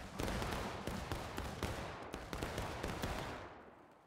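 A dense volley of musket fire in the Civil War game War of Rights: many overlapping shots crackle in rapid bursts, loud and close, then thin out and fade toward the end with no speech.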